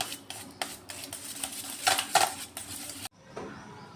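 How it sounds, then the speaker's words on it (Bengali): A utensil whisks yogurt with black salt in a bowl, making a quick run of close clinking taps and scrapes that briefly grow louder before stopping abruptly into quiet. "একটু বিট লবণ দেব, করে দইটাকে ভালো করে ফেটিয়ে নেব"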